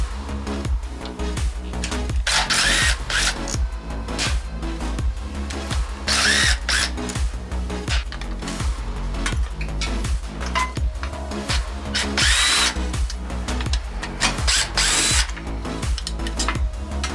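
A power drill drives screws tight into a Honda CBR/VFR800 hybrid motorcycle part, sounding as repeated loud whirring bursts with short pauses and sharp ratcheting clutch clicks, up close in a workshop.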